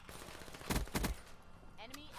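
A VMP submachine gun fires in Black Ops 3 in two quick, close bursts of rapid shots, then game effects follow, with faint talk in the background.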